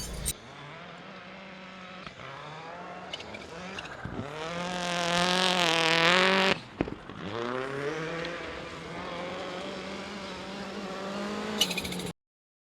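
A rally car being driven during pre-season testing, its engine revving and rising in pitch through acceleration runs, peaking loud near the middle before easing and building again, then cutting off abruptly at the end.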